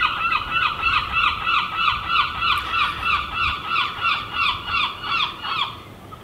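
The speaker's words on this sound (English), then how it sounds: "The seagulls are in the area." Seagulls calling near the sea beside a vegetable garden, a steady chorus of repeated loud cries in a regular rhythm over faint background noise, with no talk.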